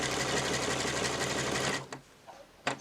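A sewing machine runs steadily in zigzag stitch setting 9 while a menstrual brief is sewn, a loud continuous motor whir that stops abruptly, followed by a couple of brief clicks and handling noises.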